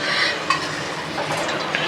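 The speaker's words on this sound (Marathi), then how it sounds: "आता आपण फोडणी करून घेऊया एक चार पळ्या तेल टाकून घ्यायचं" Oil is poured into a cooking pan to temper sambar, giving a soft, close, hissing splash with a few light clinks, and no voices.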